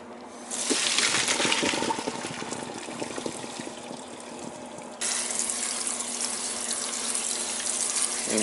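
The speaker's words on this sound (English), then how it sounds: "rinse all the starch off it" Kitchen tap water pouring steadily into a sink while cooked macaroni pasta is rinsed, a loud continuous rushing splash that grows stronger partway through, with no talking.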